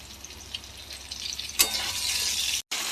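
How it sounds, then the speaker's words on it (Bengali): Potatoes frying in a pan, a steady close sizzle that swells into a louder, brighter hiss midway, with light stirring; a brief dropout near the end, no talking. "আলুটা ভাজা ভাজা হলে পেঁপেটা দিয়ে দেবো"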